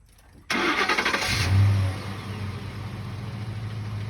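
A car engine cranks with a quick rhythmic churn, catches and revs briefly, then settles into a steady idle, close and loud.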